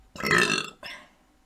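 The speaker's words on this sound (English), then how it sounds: "My burp says otherwise." A person burps twice after sipping a carbonated mango drink, a long loud belch followed by a shorter, softer one, close and alone.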